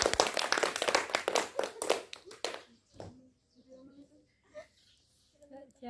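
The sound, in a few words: children clapping hands together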